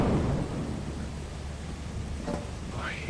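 A thunderstorm in the video game Lethal Company: a loud, continuous rumble of rain and wind with deep thunder rolling throughout.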